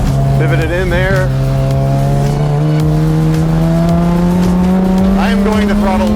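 A track-tuned Mazda RX7 FC race car accelerates loudly on track, its rotary engine droning in a rising, sustained pitch, with brief tire squeals, heard up close from inside while a driver talks.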